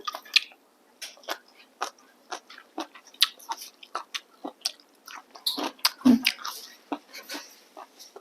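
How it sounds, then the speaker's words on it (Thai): Someone eats sweet snails with papaya salad, with close, repeated crunchy bites and wet chewing in an irregular rhythm over a quiet background. "นึกอยากกินหอยหวานกับส้มตำอืมอร่อยเคี้ยวกรุบกรุบ"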